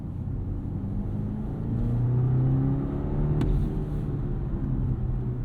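A BMW B48 engine in a 2024 BMW 530i xDrive accelerating, a steady low drone rising in pitch and loudness, then settling, with no voices.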